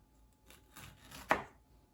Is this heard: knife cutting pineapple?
yes